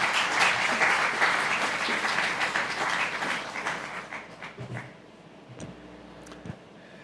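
An audience at a university bioethics and constitutional law lecture gives a speaker a sustained round of applause, dense and steady at first, then thinning to a few scattered claps as it dies away.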